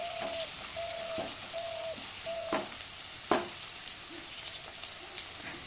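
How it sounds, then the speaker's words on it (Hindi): Onions frying and being stirred in a pan for mushroom Manchurian: a continuous close sizzle broken by sharp scraping strokes of the spatula, with faint chirping tones in the background. "एक मिनट चलाने के बाद देखिए अच्छे से भून रहा है"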